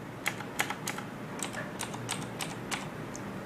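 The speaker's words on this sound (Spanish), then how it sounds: "Y pues creo que voy a teclar algo, a ver si se alcanza a ver." Keys clack on a Razer Tournament Edition mechanical keyboard with Cherry MX Blue switches, a sparse irregular run of crisp clicky presses, close and moderately loud with no speech.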